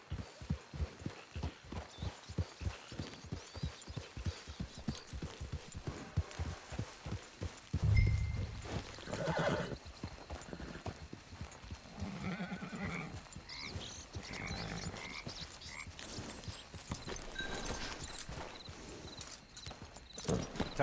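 Horse hooves clip-clop steadily at a walk in Red Dead Redemption 2 online, the rhythmic footfalls close and clear before giving way to a busier mix of movement and softer background sounds.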